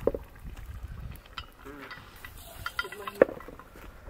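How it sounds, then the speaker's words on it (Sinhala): A marinade with water is stirred in a pot at an outback camp, soft sloshing and scraping with a couple of sharp metallic clinks, quiet and close. "මම පොඩ්ඩක් කලවම් කළා"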